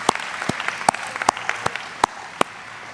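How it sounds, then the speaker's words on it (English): Graduation audience at Riviera Beach Prep claps in a loose round of applause, sharp individual hand claps popping out clearly over a steady wash of crowd clapping for a few seconds. "Give yourself and your peers a huge round of applause just for being in the building on this day"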